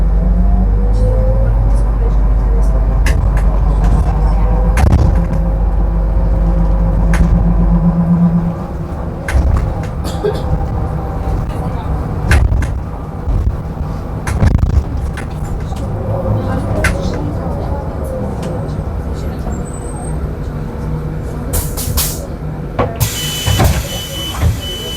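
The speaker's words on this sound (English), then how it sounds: "Riding a newer Solaris trolleybus." Interior ride on a newer Solaris trolleybus in Sofia: a steady low electric hum and road rumble with rattles and clunks, a louder low drone easing off after the first few seconds, and a voice talking over it.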